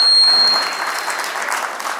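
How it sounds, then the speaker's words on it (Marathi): A gathering of the 1982 batch at a get-together claps together, a dense burst of applause that starts loud and eases off slightly over a couple of seconds, with a faint ringing tone at the beginning. "सर्वांनी टाळ्या वाजवल्या तर उत्साह वाढेल."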